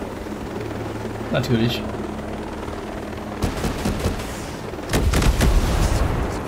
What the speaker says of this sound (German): Ein Helikopter.